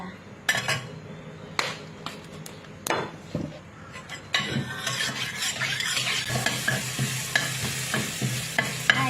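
A utensil scrapes and clanks against a pan. After a few seconds a steady sizzle of stir-frying Chinese kale takes over, close and lively.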